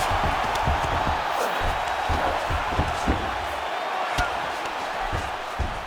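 A crowd in the UFC 5 video game roars steadily as the fighters get back to their feet after grappling on the ground, a dense, continuous cheer at moderate loudness with commentary voices under it.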